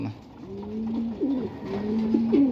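Racing pigeons cooing at the loft, several soft, low, rolling coos repeating close by against a quiet background, no talk.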